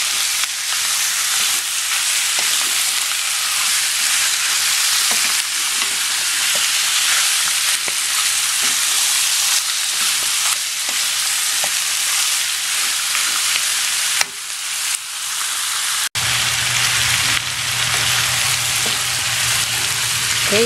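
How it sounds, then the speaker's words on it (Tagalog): Chicken and pork pieces light-frying for adobo, a bright, dense sizzle crackling steadily in the pan, broken by a brief stir and a clunk before the frying carries on with a low hum underneath. "mag-light fry na itong ating chicken and pork"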